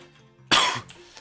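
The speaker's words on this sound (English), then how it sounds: "I may be sick, that's why I cough and stuff" A single close, sharp cough from a person who may be ill, lasting about a third of a second and otherwise heard alone in a quiet room.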